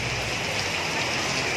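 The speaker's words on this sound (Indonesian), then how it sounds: "Jakarta telah diguyur hujan lagi guys ya pada hari ini dengan angin yang kencang" Heavy rain with strong wind in Tanah Abang, central Jakarta, makes a dense, steady hiss close by, unbroken for the whole short stretch with no voices.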